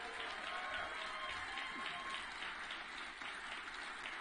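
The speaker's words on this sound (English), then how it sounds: "Can we give them a big round of applause?" A crowd at a McLaren Formula One car launch applauds team employees, a faint, distant, even wash of clapping that holds steady the whole time.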